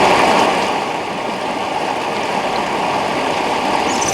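Waves of the holy Ganga river at Garhmukteshwar in Uttar Pradesh, heard as a loud, steady rush of moving water that fills the whole stretch without pause or voices.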